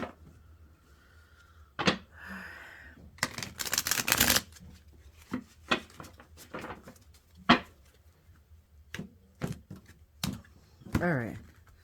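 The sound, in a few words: shuffling a new, stiff deck of tarot cards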